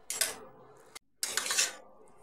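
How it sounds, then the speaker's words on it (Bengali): A spatula scrapes through fried bitter gourd and eggplant mixed into saag in a pan: two close, gentle stirring strokes separated by a brief pause. "উচ্ছে আর বেগুন ভাজাটা খুব সাবধানে আলতো হাতে মেশাতে হবে"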